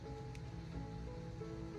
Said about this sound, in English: I don't know if you can hear that in the background. That is the rain.